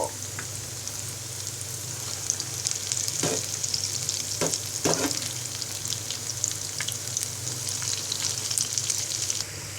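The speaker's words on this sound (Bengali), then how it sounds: "আমার লাল শাকের ঝাল বড়া ভাজা হয়ে গেছে" Red amaranth leaf fritters (lal shaker jhal bora) frying in oil in a pan give a steady, close crackling sizzle throughout, with a few brief louder pops and stirring scrapes around the middle.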